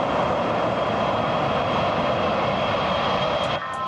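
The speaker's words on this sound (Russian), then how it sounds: "По этому реву Ил-86 узнают даже за границей" Jet engines of an Ilyushin Il-86 airliner roar in a loud, dense, continuous broadband rush with a whining tone, easing slightly at the very end.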